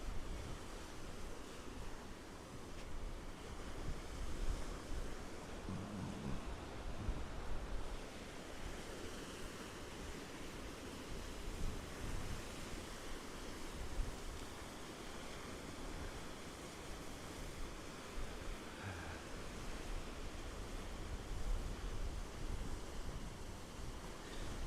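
Ocean waves and surf roll continuously around a surfer paddling out off the Gold Coast, Queensland, a steady broad wash with wind buffeting the microphone and no voices.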